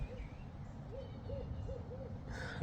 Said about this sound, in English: owl. It's pretty cool.